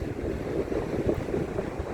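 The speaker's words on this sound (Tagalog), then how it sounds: "Yan ang dagat niya, oh." Cold, choppy seaside at Otterup near Odense, Denmark: steady wind buffeting the microphone over the wash of waves, continuous and fairly close.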